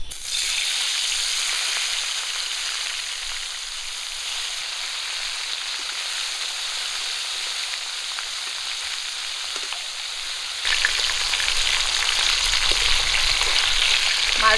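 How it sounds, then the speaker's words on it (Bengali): Fish frying in hot oil for a curry gives a steady, loud, close hiss, which swells into a denser, rougher sizzle near the end; no talking is heard. "তেল গরম হয়ে গেছে, মাছ দিয়ে দেবো।"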